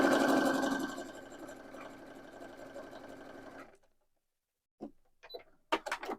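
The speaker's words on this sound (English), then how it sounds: "I'm letting the machine do the work by pulling my fabric through" A sewing machine stitches quilt fabric as it pulls the pieces through, a steady, close whirring hum for several seconds that cuts off, followed by a few faint handling clicks and taps.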